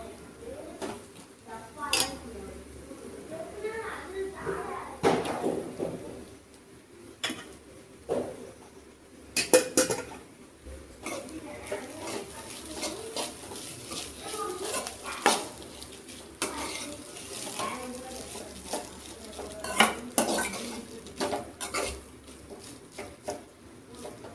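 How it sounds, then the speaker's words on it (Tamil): A spoon stirs cooked rice into a mixture in a pan, giving irregular scrapes and sharp metallic clinks that come in bursts with short pauses between them. "அப்படியே சாதத்தை போட்டு கிளறிடலாம்."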